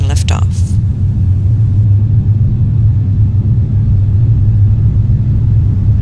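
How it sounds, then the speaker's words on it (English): An airliner's engines during the takeoff roll and liftoff on a late-evening Lihue to Honolulu flight, heard from the cockpit as a loud, steady low rumble that holds for the whole stretch after a brief sharper noise at the start. "On the rotate call from the first officer, we pull back on the yoke to obtain liftoff."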